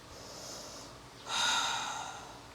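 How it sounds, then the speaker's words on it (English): Deep yoga breathing during a power vinyasa flow: a long breath in, a brief pause, then a stronger rushing exhale, close and soft with no talk. "Take a few cycles of your breath here, reset."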